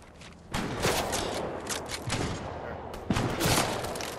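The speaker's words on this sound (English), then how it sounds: "there's somebody shooting me though" Video game gunfire in bursts of rapid automatic shots, loud and close, breaking out in several volleys with short gaps and faint footsteps between.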